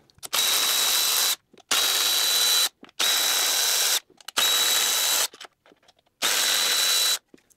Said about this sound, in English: Remove the bolts, make sure you don't drop them inside of the engine bay.